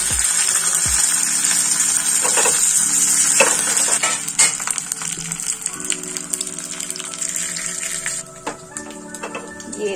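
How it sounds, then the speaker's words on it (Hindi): Curry leaves, red chili and asafoetida crackle and sizzle in hot oil as a tempering for a South Indian onion-tomato chutney, a loud steady frying hiss with sharp pops and spits throughout, no voices. "क्रैकल आ चुका है, इसमें कड़ी पत्ता और रेड चिली दोनों हमने डाल दिया है।"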